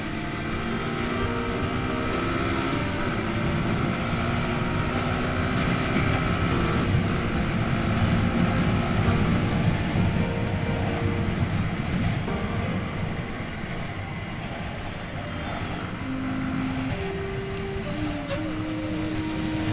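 Steady motor drone of a moving 2022 Suzuki Gixxer SF motorcycle, ridden gently, with shifting engine tones and wind noise, continuous and fairly close, no talking.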